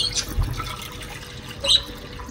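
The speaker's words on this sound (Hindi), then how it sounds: "यार अब इसमें पानी डाल देते हैं" Water being poured into a budgie's water bowl, a soft continuous splash and trickle at close range with a few brighter drips, heard alone.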